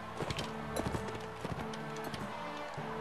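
Horse hooves clip-clop in the medieval combat game Mount & Blade: Warband, a quick rhythmic trot over a dense, continuous game soundscape at fairly low level.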